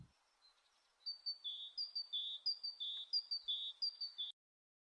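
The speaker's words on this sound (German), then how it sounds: "Dieser Vogelsound." Bird chirping plays in a video game: a clean, bright series of quick two-note tweets repeated evenly for about three seconds against near silence.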